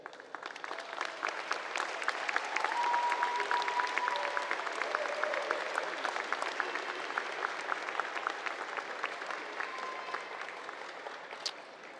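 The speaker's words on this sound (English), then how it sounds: "I want to ask you to give them an ovation and a thanks." A commencement audience gives a long, sustained ovation, with dense clapping from a large crowd filling the whole stretch at an even, strong level that tapers slightly toward the end.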